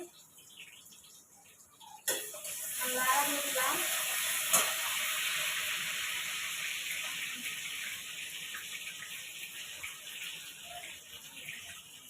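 A sudden loud sizzle erupts as onions hit hot oil in a wok, settling into a steady, crackling fry that continues throughout.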